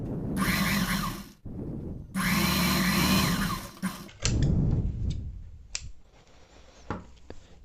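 A sewing machine stitches the shoulder seam of a designer blouse, with two loud sustained bursts of motor whirring and needle chatter, then quieter clicks and handling sounds.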